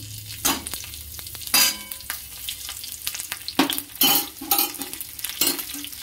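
Crushed garlic and green chillies hit hot oil after fried vegetables, giving a close, crackling sizzle broken by sharp bursts and metal spoon clinks as the pan is stirred.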